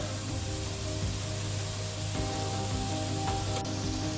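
Grated beetroot being stirred in a frying pan for Kerala beetroot thoran, giving a steady close sizzle with soft scraping from the spoon and a low background hum throughout.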